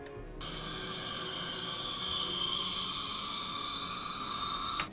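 Baby kitten meows, processed into a bat sound effect for the game Alan Wake, form a steady, dense, shimmering drone. It starts abruptly, holds at an even level for several seconds and then cuts off.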